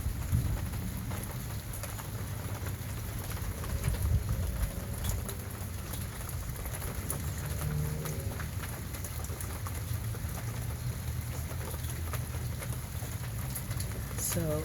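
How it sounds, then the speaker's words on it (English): Steady rain falls across a garden in Virginia on a wet early-evening day, a soft continuous patter with scattered drips, fairly faint and even throughout. "and getting some rain."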